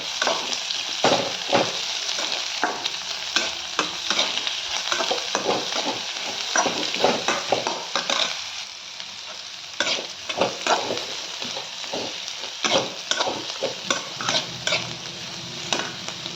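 Crushed garlic fries in hot oil with a dense, continuous sizzle and frequent scraping stirs and light utensil knocks, briefly quieter midway, with no one talking.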